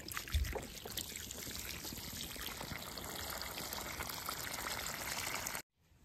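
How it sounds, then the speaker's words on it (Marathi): Water gushes steadily from a pipe fed by an electric motor pump on a farm, a continuous splashing flow that cuts off abruptly near the end. "आता मोटर चालू झालेली, पाणी पण यायला लागलेलं."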